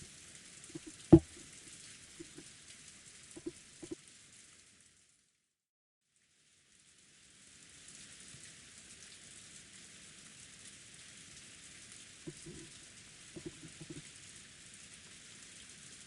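Rain falls as a soft, even hiss, broken by a few seconds of near silence midway, with occasional faint knocks and taps rising over the patter.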